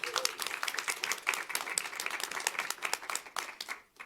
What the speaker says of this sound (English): Let's get a big round of applause for all of them.